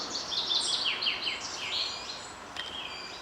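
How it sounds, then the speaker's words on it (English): Several birds chirp and sing in quick, high twittering phrases beside a quiet cycleway, with a steady hiss of ambient background throughout and no voices. "You can hear the birds in the background."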